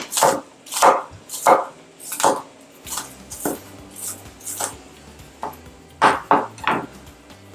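A large onion is chopped with a knife for Cameroonian spinach, giving a near run of about a dozen crisp, uneven thuds that bunch into quick bursts, with a short lull in the middle and no talking.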